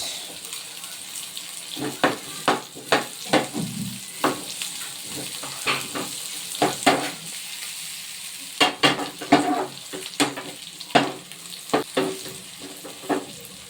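Vegetables including carrot being stir-fried in a pan, with repeated sharp scraping and tossing strokes of a spatula over a steady sizzle, close and fairly loud, with no talking.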